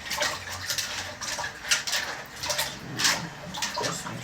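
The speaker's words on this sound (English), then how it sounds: "I'm gonna just give them a second rinse in some vinegar" Food is rinsed in water and vinegar in a home kitchen, giving soft, continuous sloshing and splashing with small clinks, faint and close by, with no talking.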